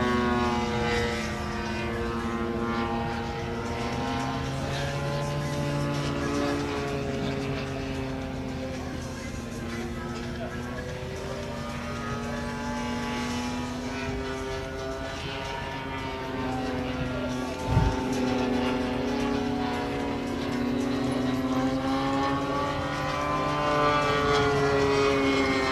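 Propeller aircraft engines run at the LMA Elvington airshow, making a continuous droning roar with a slowly wavering pitch that holds steady throughout, with one brief thump partway through.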